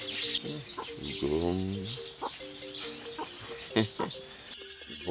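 Chickens cluck and a rooster calls repeatedly in a rural outdoor setting, close and fairly loud, with other farm animal sounds and people talking intermittently over the birds.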